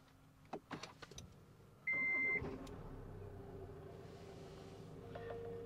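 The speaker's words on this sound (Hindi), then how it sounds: "गाड़ी को कर लेते हैं स्टार्ट" A 2024 MG Hector Sharp Pro diesel SUV is started from inside the cabin: a few clicks, a sharp chime, then the engine catches and settles into a low, steady idle.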